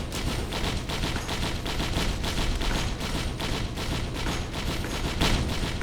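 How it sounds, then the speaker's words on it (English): Rapid explosions from the Brilliant Behemoth item in the game Risk of Rain crackle in a dense, steady barrage of popping blasts, continuous and fairly loud throughout. "It's an explosion. The more dudes that are a part of the explosion, the bigger the boom."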